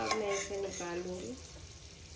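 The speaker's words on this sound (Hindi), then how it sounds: "ये मूंगफली फ्राई हो गई है, अब मैं इसे निकाल लूँगी।" Peanuts frying in hot oil for an aloo samosa recipe, a close, soft sizzle with stirring scrapes of a utensil in the pan, briefly overlapped by a faint voice near the start.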